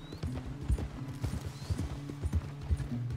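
Horse hooves clip-clopping in Red Dead Redemption 2, a steady rhythmic trot of close, loud hoofbeats over a low background, with no talk.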